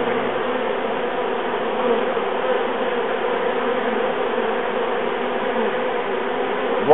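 A honeybee swarm clusters on the front corner and side of a hive, giving a steady, dense buzz of many bees that holds close and even throughout, with no voices.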